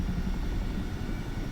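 A Chinook helicopter in Microsoft Flight Simulator 2024 gives a steady, dense rotor and engine drone that stays loud and constant throughout, low-pitched and unbroken.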